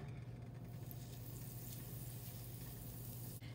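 Butter melting in a pan preheated on medium heat for a keto grilled cheese, a steady soft sizzle and hiss with a low hum beneath, fairly quiet and continuous, without speech.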